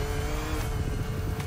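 A 2016 Ford Focus RS accelerates in the racing game The Crew Motorfest, a rally raid event. The engine drones steadily and loudly for a brief moment, with a sharp high burst near the end.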